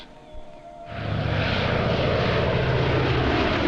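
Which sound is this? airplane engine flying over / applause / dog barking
airplane engine flying over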